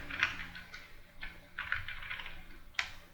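Quiet computer keyboard typing while entering code comments: a few scattered, soft key clicks with pauses between bursts, close and faint over a low background hum.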